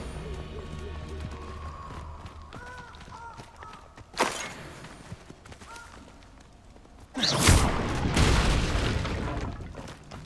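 A Confringo blasting spell explodes in the Hogwarts Legacy video game, a sudden loud burst with a rumbling, sustained roar following it, set against game music and ambient effects.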